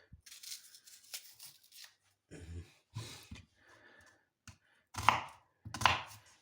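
An onion is cut into pieces with a knife, heard as a few separate close chopping bursts with quiet pauses between them, including two sharper, louder cuts near the end, and no one talks.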